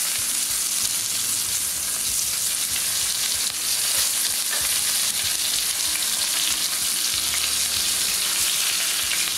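A New York strip steak sizzles loudly in a pan of melted butter, a steady close-up fry crackling without pause, with no voices.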